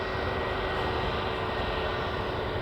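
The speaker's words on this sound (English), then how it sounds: "we have got an Air Transat which is due to be taking off, going to Toronto" An Air Transat airliner roars on its takeoff run at Manchester Airport, a loud, steady broadband engine rumble with a faint whine, no voices.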